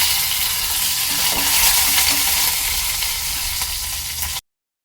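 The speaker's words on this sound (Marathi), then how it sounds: "यामध्ये मी टाकणार आहे लसूण, कढीपत्ता, जिरं आणि मिरची। चांगली तेलावर परतून घ्यायची आहे।" Garlic, curry leaves, cumin and green chillies frying in hot oil, giving a loud, continuous sizzle that holds steady throughout before cutting off abruptly.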